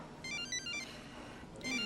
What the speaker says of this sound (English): I believe your symbiote bag is ringing